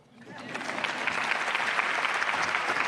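Applause from the audience at the Austin Independent School District State of the District address for the school board members, swelling quickly into dense, continuous clapping that holds steady throughout.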